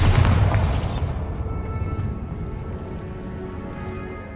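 Confringo, Descendo and Bombarda spell blasts from Hogwarts Legacy open with a loud, close booming explosion that fades into a long rumbling decay, with a low continuous roar lingering underneath.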